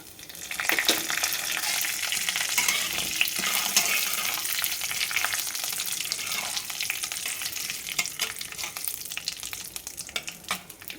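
Mustard seeds and dried red chillies frying in hot oil, a dense continuous sizzle with crackling pops and stirring, close and loud throughout.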